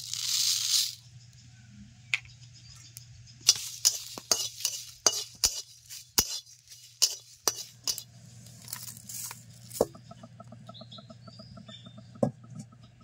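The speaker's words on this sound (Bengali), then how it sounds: "শুকনো খোলায় শুকনো লঙ্কা, ধনিয়া, জিরে আর তেজপাতা হালকা করে ভেজে নিতে হবে" Dry red chillies, coriander seeds, cumin and broken bay leaves are roasted in a dry pan, with scattered spatula scrapes and clinks against the metal over a low, steady hum.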